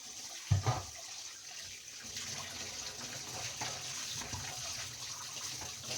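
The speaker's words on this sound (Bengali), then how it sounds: "একবার করে কড়াটাকে ভালো করে ধুয়ে নিই।" Tap water runs steadily into a kadai (wok) being rinsed in a home kitchen sink, with a clunk of the pan near the start and a continuous close splashing hiss after it.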